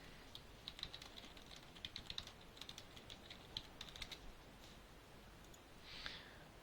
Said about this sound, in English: I'm just gonna type to him.